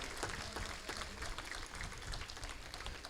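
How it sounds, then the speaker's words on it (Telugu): An audience claps steadily for a priest at a church festival in Polukonda, Vijayawada, a dense continuous patter of many hands that lasts throughout without any talking. "గట్టిగా చప్పట్లు కొడదాం"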